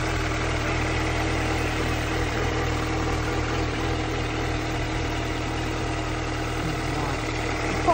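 A blue Mini Cooper idles steadily close by, its engine giving a constant even hum with a low rumble. The sound is unbroken and level throughout, with no talk over it.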